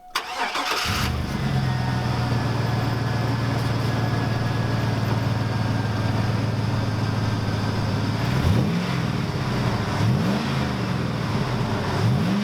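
A vehicle engine cranks and catches, then settles into a steady low idle that runs continuously, with a few brief revs near the end.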